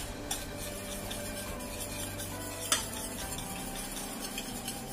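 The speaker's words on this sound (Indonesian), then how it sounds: "Kemudian kita aduk sampai rata." Choux pastry dough with about 15 grams of margarine is stirred in a pan, a soft continuous scraping and faint sizzle with occasional light utensil taps, quiet and close, without speech.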